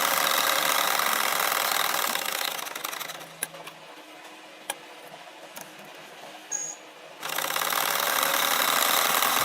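A sewing machine stitches a kantha quilt, its loud steady motor whirring close by, pausing for a few seconds with faint clicks before running again at full speed.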